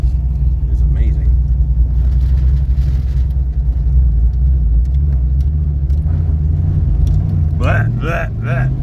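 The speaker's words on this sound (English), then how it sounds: "The idle of this car is amazing." A supercharged Corvette C5 Z06 V8 engine idles loudly and steadily with a deep, throbbing low rumble, then blips the throttle briefly near the end; voices talk faintly underneath.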